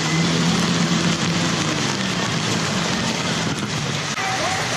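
Steady heavy monsoon rain hisses close by during the Songkran festival in Muak Lek, Thailand, with a constant wash of noise and faint voices somewhere underneath.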